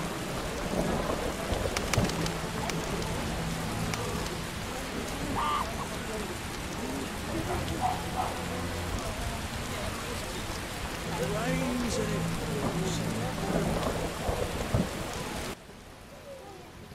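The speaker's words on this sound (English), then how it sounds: "Raining so hard." Steady rain falls hard in The Witcher video game, with deep thunder rumbling in the background and faint voices murmuring underneath, before the downpour abruptly quiets near the end.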